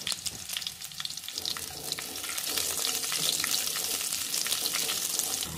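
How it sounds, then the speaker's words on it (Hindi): Sliced onions fry in a pan for a capsicum-onion sabzi, making a dense hissing sizzle that builds louder and steadier after the first couple of seconds, with no talking. "प्याज को भी कुछ देर फ्राई करेंगे"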